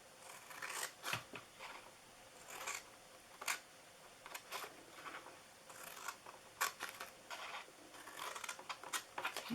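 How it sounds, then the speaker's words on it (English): Scissors snipping into a scored paper gift box, a string of crisp, close cuts in short irregular clusters with paper rustling between them. "I'm going to cut to the first score mark. Cut into these just to take down a little bit of that bulk."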